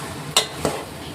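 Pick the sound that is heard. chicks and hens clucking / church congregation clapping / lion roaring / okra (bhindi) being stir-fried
okra (bhindi) being stir-fried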